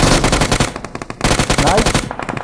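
Loud automatic gunfire in a shooting video game, long rapid bursts of machine-gun shots with a short pause in the middle, played close and dominant.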